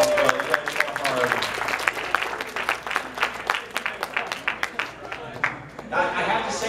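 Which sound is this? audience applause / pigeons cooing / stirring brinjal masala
audience applause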